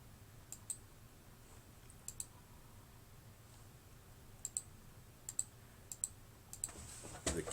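A computer keyboard is typed on during a math lecture, with sparse, faint, scattered clicks and a few quick bursts near the end against a quiet room hum.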